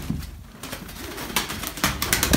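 Pigeons cooing close by, soft low murmurs with a few brief rustling bursts of wing or body movement in between.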